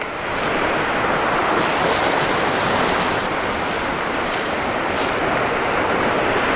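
Fierce sea surf roars steadily beside a strong onshore wind, a dense continuous wash of breaking waves with gusty rumble on the microphone, loud and close throughout.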